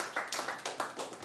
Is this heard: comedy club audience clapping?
yes